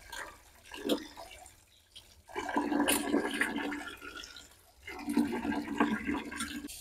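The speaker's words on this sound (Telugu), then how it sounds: "ఉప్పు వేసి నీళ్ళు వేసి కడుగుతున్నారండి ఫస్ట్" Jella fish caught in the Krishna river are washed with salt and water, giving uneven sloshing and splashing in a few separate bursts at close range.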